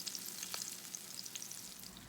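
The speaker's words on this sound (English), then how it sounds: "now that we are done frying our tofu" Tofu sizzles in hot oil in a pan, a close, continuous crackle with fine spitting pops and no voices.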